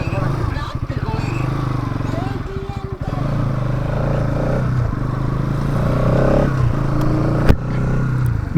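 A motorcycle engine runs close by with a steady loud chugging rumble and some clattering, while someone talks over it.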